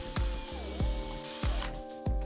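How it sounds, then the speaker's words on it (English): A power drill boring dowel holes into wood over a scrap backing board, in several short bursts with the motor pitch rising and falling between brief pauses. "When drilling holes like this, it's definitely a good idea to keep a scrap piece of wood underneath to prevent blowout"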